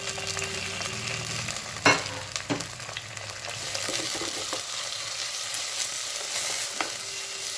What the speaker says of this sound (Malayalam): ഇതെല്ലാം കൂടി ഒന്ന് നല്ലപോലെ ഒന്ന് വാട്ടിയെടുക്കണം